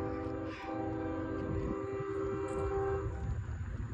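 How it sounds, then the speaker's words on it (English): A CSX freight train, the M410, nearing a road crossing on South Avenue, sounding its horn in a long steady blast over a continuous rolling rumble, close and loud throughout. "The train is coming."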